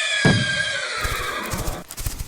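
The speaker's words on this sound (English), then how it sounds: "The startled horse bolted" A startled horse gives a loud, shrill neigh, then its hooves pound away in a quick run of clops, all close and without voices.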